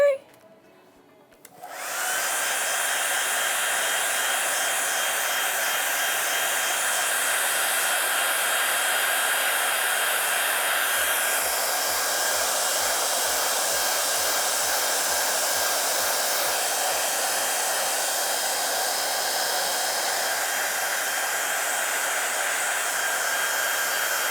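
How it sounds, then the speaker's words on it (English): A hair dryer blows steadily at close range to dry blue ink on a stencil screen print, a loud continuous whir that starts after a brief click and runs unbroken to the end. "So the last part of this process is to hair dry the blue."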